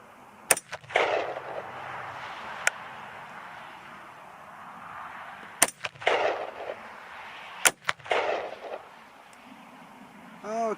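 A .223 Remington rifle loaded with 55-grain Nosler Varmageddon bullets fires several sharp, loud shots outdoors at intervals, each crack followed by a short echo, with a voice speaking between the shots.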